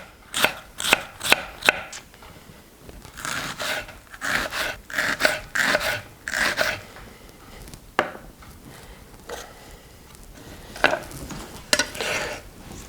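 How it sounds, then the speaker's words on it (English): A knife chopping a shallot on a cutting board, a series of crisp, close knocks in quick bursts with short pauses between runs. "we can just run the knife through the shallot"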